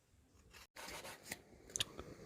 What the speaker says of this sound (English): I think there was 4 to 5 coconuts, so it's quite a bit to grate